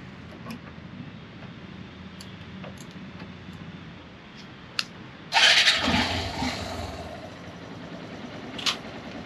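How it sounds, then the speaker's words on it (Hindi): A motorcycle engine is started after a few quiet clicks, catching with a loud burst and then settling into a steady idle that fades somewhat, with no talking. "सबसे पहले बाइक को स्टार्ट कर लेंगे"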